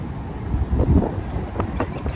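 Wind buffets the microphone with low rumbling gusts, loud and close, with no other clear sounds.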